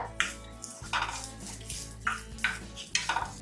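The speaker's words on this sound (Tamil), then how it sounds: "தேங்காய் சேர்த்துட்டு நல்லா ரோஸ்ட் பண்ணிக்கலாம்" Grated coconut is roasted for mutton curry, with a spatula scraping and clinking against the pan in distinct strokes about every half second over a faint background sizzle.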